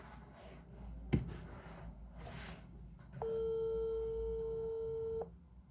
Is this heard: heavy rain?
no